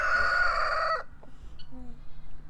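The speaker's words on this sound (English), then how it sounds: "This rooster's killing me right now because he won't stop." A rooster crows loudly and close, its long strained call ending abruptly, followed by a few soft clucks against quiet background.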